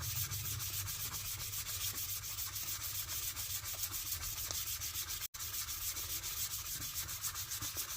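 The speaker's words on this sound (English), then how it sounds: "sanding the shank of the screwdriver to get that surface rust off" Hand sanding the surface rust off a screwdriver shank makes a quiet, steady scratchy rubbing of abrasive on metal, continuous and close, with one brief dropout near the end and no talk.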